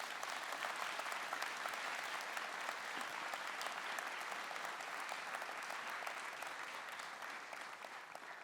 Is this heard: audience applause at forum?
yes